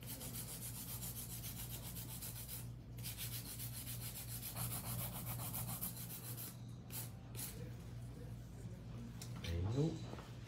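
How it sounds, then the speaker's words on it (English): A steady high whine of an electric nail drill with a faint grinding rasp as it files, continuous and close, under quiet talking. "I'm gonna use my drill for that"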